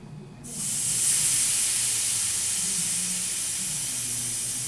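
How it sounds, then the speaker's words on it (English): Air hisses steadily out of a bicycle tire valve as the tire is deliberately deflated, a loud continuous rush starting abruptly after a brief quiet moment and holding nearly constant to the end. "my tire's not flat, it's actually still good, so but I'm going to flatten it."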